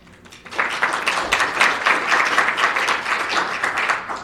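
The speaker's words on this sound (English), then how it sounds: "They'll be very happy to hear that we're getting applause." Conference audience breaks into applause for a speaker at an open source talk, clapping rising sharply after a quiet half second and continuing strongly, slightly uneven, through the rest.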